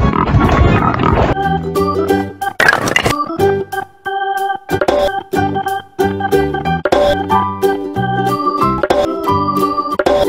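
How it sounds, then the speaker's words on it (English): A cartoon pig oinks briefly at the start, then gives way to loud, bouncy children's animation music with plucked melody notes that carry on to the end. "Pig."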